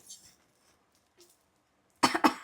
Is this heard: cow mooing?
no